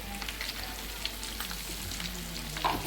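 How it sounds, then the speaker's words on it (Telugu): Hot oil poured into village-style gongura chutney, a continuous crackling fry sizzle up close, fairly quiet and even throughout with small spatters. "వేడి వేడి నూనె వేస్తే కర్రీ కలిసిపోతుంది"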